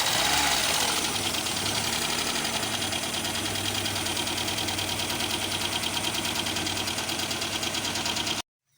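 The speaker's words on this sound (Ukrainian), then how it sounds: "Вже покраще працює мотор, вже не дергається, не троїть." A ZAZ Tavria injector engine idles steadily after a spark plug replacement, running smoothly without misfiring: a close, even mechanical hum with ticking, alone, cutting off at the end.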